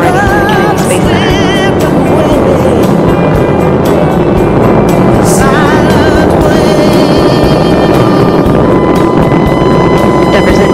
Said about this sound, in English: Endeavour's engines were throttling down as the orbiter passes through the area of maximum pressure on the vehicle